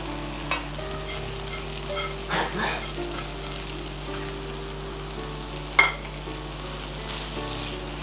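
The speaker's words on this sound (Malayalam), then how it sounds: "ഇനി നമ്മൾ വറുത്ത് വെച്ചിരിക്കുന്ന റവ, ബോംബെ റവ, അതും ചേർക്കാൻ പോവാണ്" Roasted Bombay rava goes into a pan of vegetables and meat, making a soft, steady sizzle with occasional scraping and one sharp knock as the mix is stirred. No one speaks.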